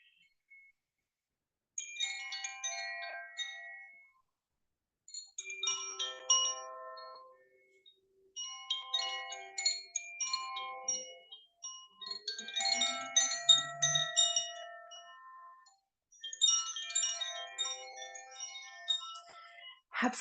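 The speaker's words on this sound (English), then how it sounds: "And now becoming aware of the sound of the chime." Meditation chimes ring softly during a yin yoga session, with bright, bell-like tones struck in clusters, each group fading out before the next, in an otherwise quiet room.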